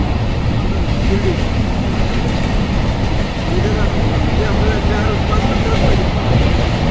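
A passenger train rumbles past steadily and loudly at a station, a continuous heavy roar of wheels and carriages without a break.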